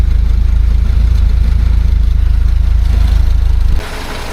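A BMW 2002 engine idles at about 1,000 RPM after carburetor tuning, with a loud, close, steady low rumble and a faint miss, and the sound drops off sharply near the end.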